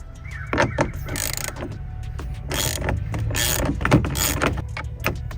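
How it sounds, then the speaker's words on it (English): On a 2010 Chevy Tahoe LTZ passenger-side mirror mount, a nut is unscrewed by hand, giving a series of short, close mechanical clicks and scrapes spaced irregularly over a low background hum. "you can literally take the wrench off and just unscrew it by hand"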